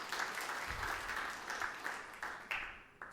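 A church congregation claps together in sustained applause, a dense wash of hand claps heard at moderate distance that rises and tapers in waves, with no speech over it.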